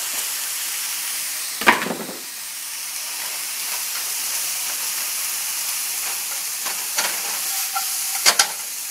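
Chopped onion frying in a pan for Japanese-style spaghetti, a steady close sizzle and hiss with a few sharp scraping stirs of a utensil against the pan, no talking.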